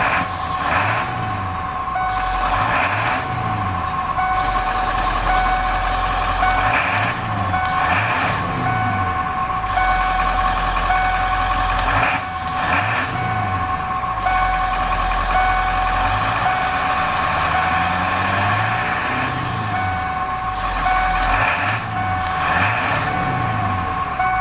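A Ford pickup truck engine idles steadily and loudly nearby through its exhaust for a long stretch, with a repeating high beep pulsing every few seconds over the rumble.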